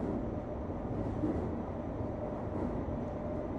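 Subway train ambience in the video game Doki Doki Afterimage, a steady low rumbling drone of a moving train carriage, quiet and continuous throughout.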